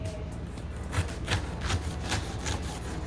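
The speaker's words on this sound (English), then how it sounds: "Let's cut all of these sides of the pineapple off" A kitchen knife slices the tough skin off the sides of a fresh pineapple, giving a close, repeated rasping and crunching roughly every half second, steady and unaccompanied by talk.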